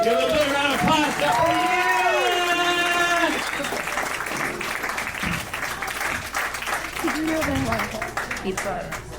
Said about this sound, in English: Give a big round of applause to